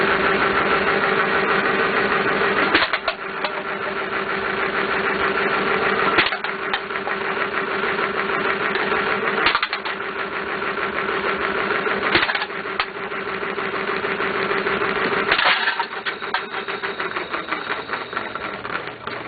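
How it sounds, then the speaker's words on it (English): A homemade can crusher machine fitted with cogged wheels runs steadily and loudly, its motor droning with a mechanical rattle while sharp crunches of cans being crushed land every few seconds, about six times, with no talking. "watch me crush some cans"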